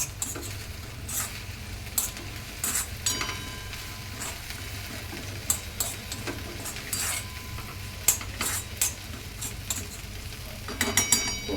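Grated coconut with raisins roasting in a pan, a soft continuous sizzle broken by occasional clinks and scrapes of a spoon stirring, close and moderately quiet.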